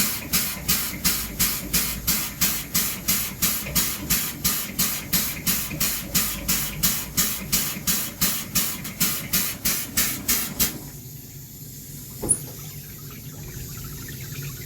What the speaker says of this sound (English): turn that lever there, run that for a few seconds and it'll clean my gun